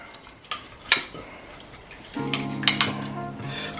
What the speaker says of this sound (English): Now I'm going to cut into the steak.